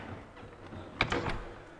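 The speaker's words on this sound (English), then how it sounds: "If she makes a move, like this, the door goes shut." A door swings shut in front of a Swiss Mountain Dog, a soft thud followed by a couple of faint rattles, heard against quiet background noise.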